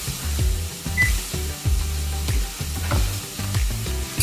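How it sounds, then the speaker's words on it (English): Onions sizzle in a pan while being stirred, with repeated rhythmic scraping strokes over a steady frying hiss, close and fairly loud. "go ahead and give your onions, kind of like a stir"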